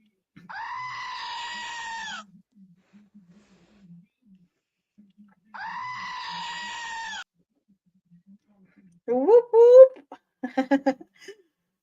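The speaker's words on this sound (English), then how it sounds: "And just a little extra goat for you," A goat bleating sound effect: two long, loud, wavering bleats separated by a quiet pause, then a burst of shorter, choppy bleating sounds near the end.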